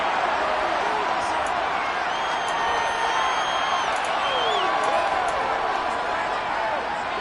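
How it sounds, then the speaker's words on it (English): A stadium crowd at a Jets versus Bears football game shouts steadily while watching a replay, a continuous dense roar with scattered whoops and whistles rising above it. "Plenty of shouts from this crowd as they watch the replay"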